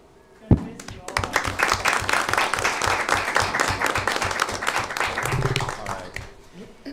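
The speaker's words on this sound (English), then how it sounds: "Can we maybe get one more round of applause for these amazing individuals?" An audience bursts into applause at a school board meeting, the clapping starting suddenly and continuing dense and steady for several seconds before easing off, with some voices mixed in.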